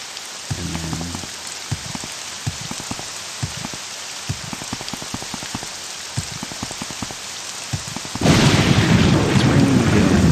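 Rain falling inland in the Morrowind game world, a steady hiss scattered with sharp drop ticks and a low rumble of thunder early on, then swelling abruptly into a much louder, denser downpour near the end.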